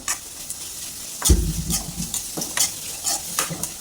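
A small ladle stirring and sautéing a mixture in a pan while making potato bonda, giving loud scraping strokes and a steady sizzle up close, with repeated stirring sweeps.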